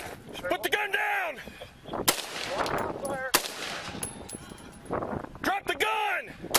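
Gunfire cracks out in scattered bursts during a police shootout with homicide suspects in Pasco, Washington, several sharp loud shots spread across the moment amid shouting voices.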